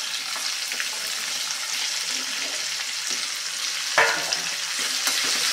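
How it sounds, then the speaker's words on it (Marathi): Finely chopped okra stir-frying in hot oil with curry leaves, a constant bright sizzle with soft stirring scrapes and one louder clatter partway through, no voices. "ही भेंडी आपण घालून घेऊया"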